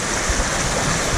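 Storm-swollen creek water rushing loudly and continuously, a dense, close wash of turbulent flow with no voices.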